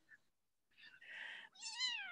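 A young kitten meows indoors: a faint chirp, then a drawn-out mewing cry rising into a higher, louder meow, close and alone.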